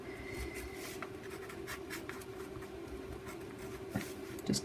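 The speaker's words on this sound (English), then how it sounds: "I'm just going to go around the outside of the flowers with my Derwent charcoal pencil, just to highlight them" A Derwent charcoal pencil scratching steadily close up as it traces around flower shapes on the cover of an accordion file folder, a continuous gritty rasp with short strokes and no speech.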